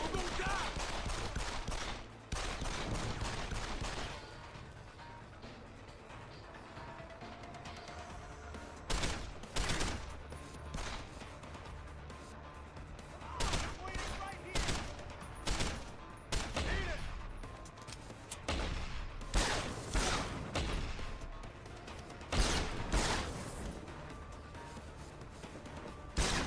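Bursts of automatic gunfire and single shots crack out in Deus Ex: Human Revolution, coming in uneven clusters with quieter gaps between them, loud and close, with someone talking in between.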